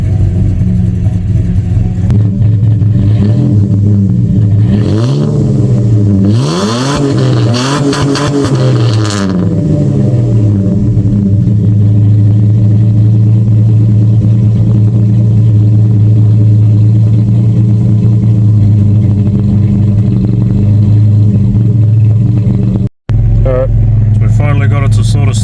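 A cammed Ford EL Fairmont Ghia engine idles with a loud, lumpy, uneven rumble after a chip tune, with a few brief revs early on and someone talking over it.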